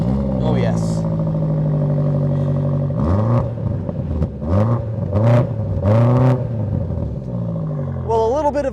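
Close, loud exhaust of a 2023 BMW M8 Competition Gran Coupe with the 4.4 V8 in sport mode. It idles with a deep rumble, then gives several sharp revs that rise and fall against a soft limiter, with some talk around it.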